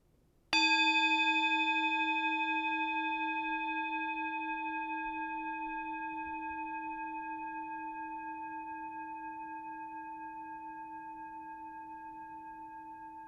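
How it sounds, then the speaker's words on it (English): A single bell is struck once at the start of a Unitarian Universalist service, its clear ringing tone sustaining alone and slowly decaying over many seconds toward silence. "As we follow the sound of the bell into silence, let us become centered and fully present"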